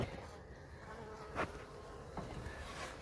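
Bees buzzing steadily from a very big hive built upside down inside a cavity, a continuous close insect drone with a few brief louder swells.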